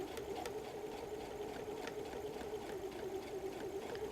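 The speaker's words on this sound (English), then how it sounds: "So I start stitching, I back stitch, and then I'm going to stitch all the way across the top here." A sewing machine stitches across the top of a messenger bag, a steady low motor hum with faint rhythmic ticking of the needle running continuously, fairly quiet and close.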